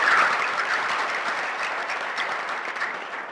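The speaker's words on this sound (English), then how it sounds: "We need to give our guests a bigger clap." Audience applauding guests at a simulation exercise event, a dense, sustained roomful of clapping that starts loud and gradually tapers off, with no voices over it.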